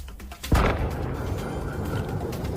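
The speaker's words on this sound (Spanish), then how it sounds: "La explosión que escuchamos desde aquí en el distrito de Avalon" Distant explosion in the Avalon district of a city under curfew: a single low boom that thuds in, then fades into a long rumbling tail over quiet, empty streets, with faint birds around.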